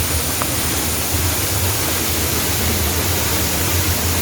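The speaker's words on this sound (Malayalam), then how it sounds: "ഇപ്പം ഈ വെള്ളച്ചാട്ടത്തിലുണ്ടല്ലോ നമ്മൾ അവിടെ കാണുന്ന പോലെയല്ല നല്ല ഫോഴ്സുണ്ട് വെള്ളത്തിന്" A powerful waterfall at Neeliyadu Chira near Manjalloor, Vazhakulam, roaring as a steady, dense broadband rush of falling water that stays loud and unbroken throughout, with no voices.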